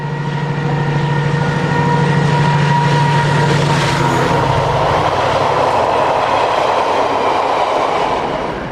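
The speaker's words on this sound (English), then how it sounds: "Making the customary racket, 70016 with a Southampton to Trafford Park liner at Old Milford" Class 70 diesel locomotive 70016 hauling a Southampton to Trafford Park container liner at Old Milford, loud thrashing engine roar with tonal drone and rumbling wagons passing close, sustained throughout.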